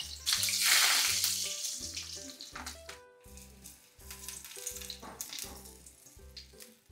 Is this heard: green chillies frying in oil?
yes